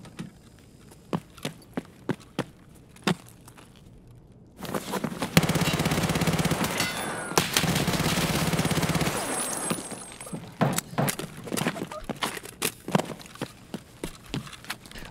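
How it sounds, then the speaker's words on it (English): A PPSh-41 submachine gun in a video game fires a few scattered single shots, then a long, loud, dense stretch of sustained gunfire with other battle noise, followed by more isolated shots and clicks. "I got the motherfucking PPSh."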